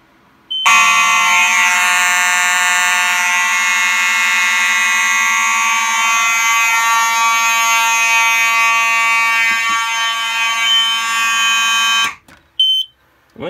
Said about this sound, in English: It should be going into alarm and jump scare me once again.